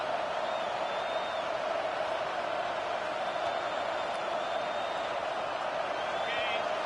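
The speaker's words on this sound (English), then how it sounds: "how nice is it to have the home crowd going absolutely bananas" A home football crowd roars in a steady, dense wash of cheering that holds at an even level without letup, distant-sounding and filling the whole stretch.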